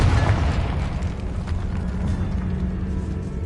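A Confringo fire spell explodes in Hogwarts Legacy inside a decaying catacomb, a loud booming blast with a dense low rumble that holds steady for several seconds with no pause.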